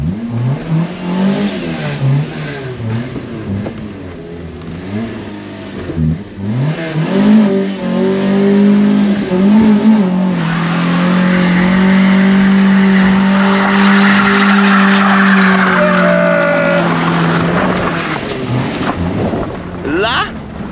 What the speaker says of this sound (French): Parce que moi elle burn en première avec le frein à main tendu.